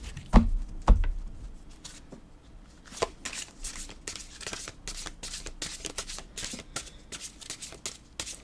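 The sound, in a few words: shuffling large tarot cards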